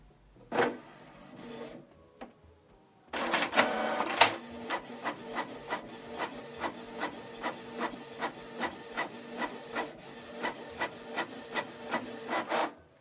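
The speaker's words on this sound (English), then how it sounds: "Now I want us to print it in black and white." A Canon Pixma TS3355 inkjet prints a black-and-white document: a brief mechanical whir, then a longer feed with a steady, rhythmic train of clicking print-head passes, fairly quiet and close.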